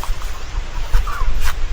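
Native chickens clucking softly in a farm coop shared with Muscovy ducks and guinea fowl, with brief, scattered calls over a steady low background rumble.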